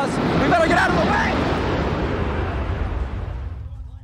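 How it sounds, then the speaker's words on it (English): Huge explosion in news footage from the September 11 attacks near the Pentagon and the two towers: a loud, roaring blast with a rumbling low end and crowd noise, decaying into silence over about four seconds. "a huge explosion now, raining debris on all of us."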